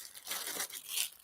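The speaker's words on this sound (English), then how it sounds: "Let's get the scissors and open these little bags." Small plastic bags being cut open with scissors, giving a soft, continuous crinkling and rustling that stays faint and close, with no voices.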